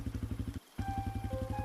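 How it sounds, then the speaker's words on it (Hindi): A motorcycle accelerates through heavy rain on a dark, flooded road: a steady pulsing engine drone breaks off briefly, then returns with rising revs and a climbing whine. "राघव ने बिना पीछे देखे एक्सीलेटर घुमाया और बाइक आगे बढ़ा दी।"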